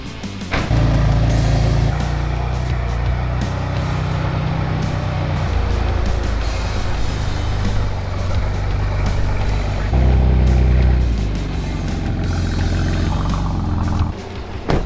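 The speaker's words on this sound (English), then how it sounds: "We are gonna have to move the BMW so we have a little more room." A BMW car idles with a deep, steady engine rumble nearby as it is moved out of a garage, and the tone shifts slightly a couple of times as it creeps along.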